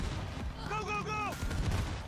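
Gunfire in the video game Cyberpunk 2077: a rapid burst of shots and rumbling impacts over a short, busy stretch, mixed with a brief tonal game sound and some voices nearby.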